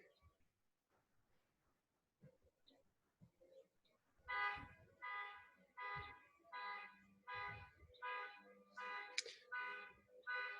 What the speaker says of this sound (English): someone's car is honking